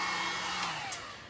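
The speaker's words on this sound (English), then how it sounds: "I'm just drying this paint that I just painted over it. I love this heat gun, it's fantastic." Heat gun blowing hot air to dry freshly applied paint on a board, a steady loud rushing whoosh that stays constant throughout the short stretch with no talk over it.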